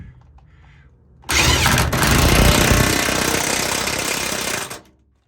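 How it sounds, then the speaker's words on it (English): A cordless impact gun drives a dump bed bolt, hammering loudly in one continuous burst of about three and a half seconds after a quiet start, then stopping abruptly. "let me go get the battery off charger real quick for the impact gun"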